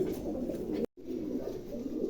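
Large pigeons on sale at a pigeon seller's coo in a soft, steady, low murmur nearby, broken by a brief silent gap.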